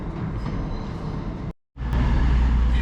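A train departs a West Yorkshire station on the Pontefract line, a loud steady low rumble and rattle of rail cars close by, with a brief dropout partway through and no talk.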